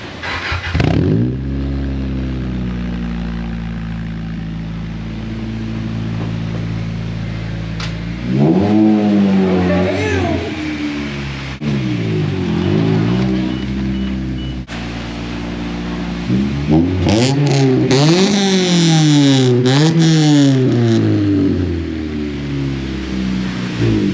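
A car engine cranks, catches and revs repeatedly, rising and falling in pitch in loud, close bursts that swell and drop across a long stretch, with no talking over it.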